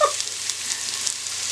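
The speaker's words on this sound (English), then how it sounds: "when you start frying the onion in the olive oil" Onion frying in olive oil while making spaghetti sauce with meatballs and sausage, giving a steady close sizzle with a faint crackle that runs unbroken and alone.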